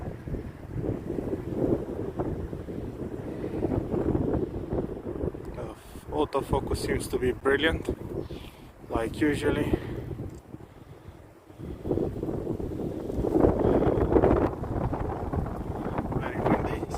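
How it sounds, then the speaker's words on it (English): Strong wind buffets a Samsung Galaxy S24 Ultra phone's microphone outdoors in loud, rumbling gusts, easing briefly before roaring back, with someone talking underneath. "Very windy, so a good opportunity to see how it behaves during wind."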